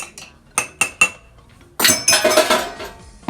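A metal spoon clinking against a cup while stirring coffee mixed with cold water: three sharp separate chimes, then a quicker run of overlapping clinks and scraping, close and clear in a quiet room.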